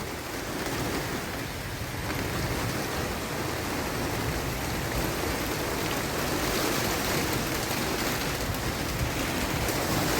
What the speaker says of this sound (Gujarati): પવન સાથે વરસાદ છે તો અવાજ કેટલો બધો છે